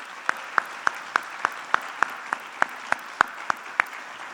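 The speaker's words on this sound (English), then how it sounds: "Let's have a round of applause for those benefactors." Slow, sparse single claps at a steady rhythm, about thirteen evenly spaced, against a quiet room hum at a business school building opening, as an audience applauds benefactors.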